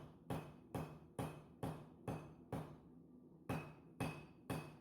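A hammer pounds a railroad spike being forged into a throwing knife, ringing metallic blows landing in a steady rhythm, about ten strikes, close and sharp.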